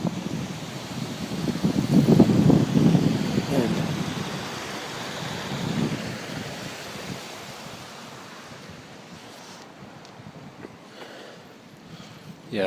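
Active waterfall along Fish Lake Trail in spring, a steady broadband rush of falling water, loudest early and easing off as the recorder moves away, with light wind buffeting and a brief word spoken.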